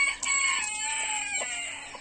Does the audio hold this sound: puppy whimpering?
no